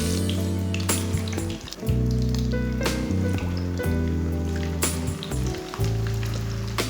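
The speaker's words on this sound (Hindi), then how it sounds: "फ्राई के लिए ऑयल लिया मैंने, ऑयल हमारा गर्म हो चुका है। अब शामी कबाब डाल लेंगे।" Mutton shami kababs frying in hot oil over medium heat, a continuous close sizzle and crackle with a steady low hum beneath and occasional sharper pops.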